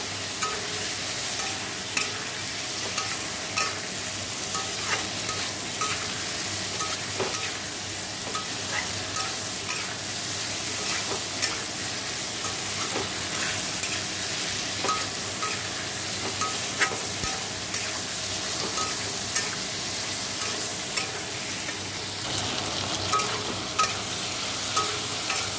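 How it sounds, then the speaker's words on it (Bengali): Ridge gourd cooking in a pan with tomato, chilli, salt and turmeric after a five-spice tempering, a continuous soft sizzle under repeated scraping stirs of a spatula, steady and close with no voices. "নুন হলুদ দিয়ে নাড়ছি"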